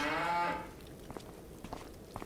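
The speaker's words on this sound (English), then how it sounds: "And then the milk cows are in here. We're doing brown Swiss." A Brown Swiss milk cow in the Farming Simulator 25 video game gives one loud drawn-out moo, followed by faint scattered shuffling and small knocks in a quiet barn.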